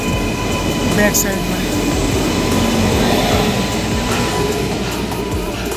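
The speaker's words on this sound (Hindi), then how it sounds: "ये वेव 5 लोकोमोटिव आ चुका है, इंडियन लोकोमोटिव भाई, जय हिंद जय भारत। अब ये लोकोमोटिव लगेगा हमारा" Indian WAP-5 electric locomotive moving in to couple onto a passenger train at a station platform, a steady near rumble of rail movement with faint squeals, while someone speaks over it.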